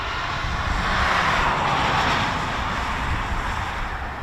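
An F-35B stealth jet hovers on its Rolls-Royce lift fan, producing a loud, steady, broadband roar that holds constant without a break.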